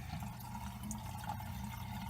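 Water draining from a sink after a 1998 Furby has been washed, a quiet, steady gurgling flow with a low rumbling drain undertone, continuous and close by.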